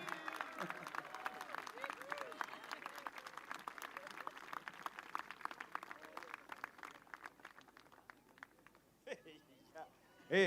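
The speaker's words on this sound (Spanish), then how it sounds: "Más fuerte el aplauso para Alan Tepano." A crowd claps steadily in a sustained round of applause that slowly fades, followed by a voice speaking at the end.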